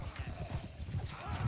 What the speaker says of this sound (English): horses that are coming down on us very fast